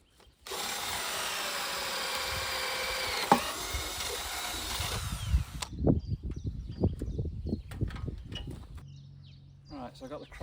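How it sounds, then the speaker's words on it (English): A multi-material drill bit boring through wood while building a garden swing frame, a steady whirring drone for several seconds that cuts off into scattered knocks, scraping and handling noises. "This is a multi-material drill bit. It's not ideal, but it reaches through."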